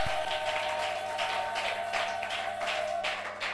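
Applause from a church congregation at a prayer crusade, a steady wash of many hands clapping at once that carries evenly through the whole stretch, with no voices standing out above it.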